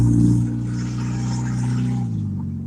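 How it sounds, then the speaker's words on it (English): A loud car engine drones at a steady idle for a few seconds, its deep rumble close and continuous and easing slightly toward the end. "Your car is loud."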